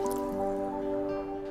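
Water pours into a blender in a short, close trickle with wet dripping and a faint resonant hum behind it.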